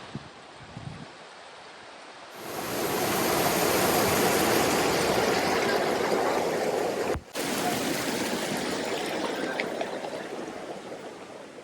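Water roars steadily at Nipni Falls, a waterfall near Shivamogga, swelling up after a quiet start into a loud, continuous broadband rush that briefly cuts out and then carries on.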